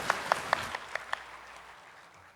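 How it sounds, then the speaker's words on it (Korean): A church congregation at a Sunday worship service gives a short burst of applause, a few crisp distinct claps up front that quickly fade into a soft decaying wash. "하나님께 영광의 박수를 올려드리겠습니다"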